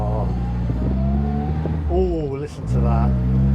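A small four-cylinder classic car engine purrs steadily while driving, its low, even hum rising and falling in pitch as it revs. The sound comes from inside the car, and people talk over it.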